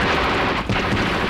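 Dense, continuous machine-gun and rifle fire from Egyptian positions in the Mitla Pass, a loud unbroken rattle of rapid shots with no speech over it.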